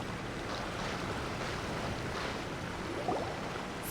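Waterfall in Genshin Impact pours with a steady, dense rushing roar that stays constant throughout, close and full, with no voices over it.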